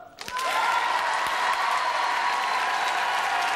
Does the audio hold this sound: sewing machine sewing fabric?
no